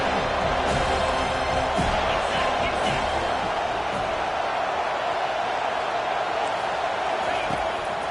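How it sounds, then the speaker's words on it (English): A stadium crowd at a televised football game swells into a loud, steady roar of cheering that holds throughout, with a commentator's voice running underneath. "This crowd rising up, sensing that its defense needs some help."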